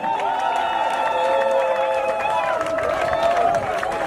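A crowd at a memorial gathering for a comedienne raises a loud, steady wall of cheering and sustained voices, with some applause mixed in, continuing unbroken throughout.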